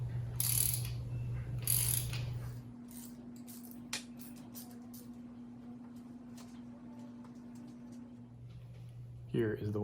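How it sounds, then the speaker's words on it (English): An 11/16 socket ratchet with extension working on a Fox Body Mustang part, giving brief mechanical clicks and scrapes near the start, then a steady low hum, with someone talking over the opening. "I got my 11/16 socket and extension"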